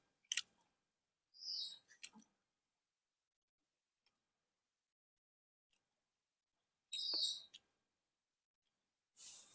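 Quiet, close mouth sounds of someone chewing food while eating a Thai Isan meal of om-style stew and eggplant soup, a few short bursts separated by long silences.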